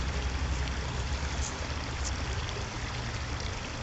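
A stream of warm water flows steadily, a close, continuous rushing and trickling wash that stays even throughout with no voices.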